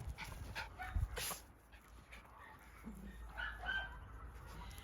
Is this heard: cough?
no